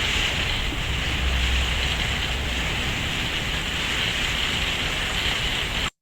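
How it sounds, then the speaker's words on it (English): Steady broadband wash of very distant traffic blended with rain and wind outdoors, constant and even throughout, with no voices, cutting off abruptly at the end. "You can hear that it's traffic and rain, it's wind, it's just very, very distant ambience"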